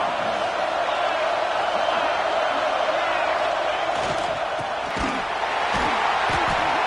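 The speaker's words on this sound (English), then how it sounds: "This crowd, full throat, splitting the eardrums and letting them know it's going to be a long day." A college football stadium crowd at an Illinois game keeps up a loud, sustained roar of cheering, with a few sharp thuds and bangs near the end and a play-by-play commentator's voice faintly mixed in.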